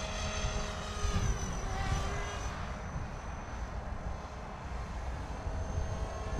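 A Blade 360 CFX radio-controlled model helicopter flies outdoors near a windy slope, its steady rotor and motor drone mixed with broadband wind rumble, fairly loud and continuous throughout with no talking.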